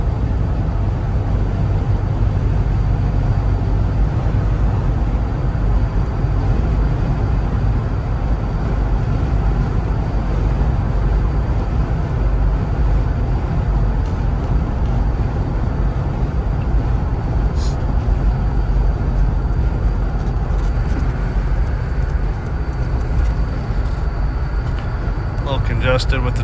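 Steady low road and engine drone inside a Jeep Wrangler Unlimited in congested city traffic, a constant rumble with no clear passing events.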